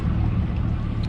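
A boat engine idling beside a trailer at a launch: a steady low rumbling drone, close and constant, with a little wind noise.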